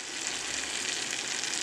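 Butter melting in a hot pan, giving a steady, even sizzle with a bright hissing crackle at moderate volume and no talking.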